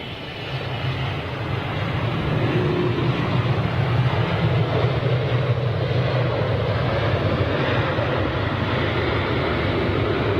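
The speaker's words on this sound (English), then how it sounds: "Do we have a 747 taxiing out for departure?" A Boeing 747 jet taxis out for departure, a steady broad engine roar and rumble that holds at a constant loudness, heard at a moderate distance with no voices.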